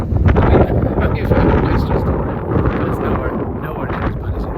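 Strong wind buffets the microphone on open ground on South Uist in the Outer Hebrides, a loud, continuous low rumble with gusting swells that ease slightly after the first second.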